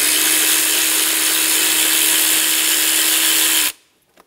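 Power tool whirring steadily at close range while loosening a 12 mm bolt on a 2010-2014 Subaru Outback 2.5L, a continuous high whine that stops sharply near the end.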